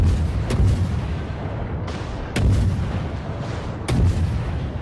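Naval guns fire in World of Warships as three heavy booms a second or so apart, each a sudden loud blast that rolls off into a long rumbling tail over constant low engine and sea noise.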